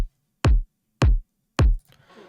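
Three punchy layered kick drum hits from a moombahton beat land alone at an even pace, each with a short clicky transient on top of a deep booming body, followed by a faint trailing sound.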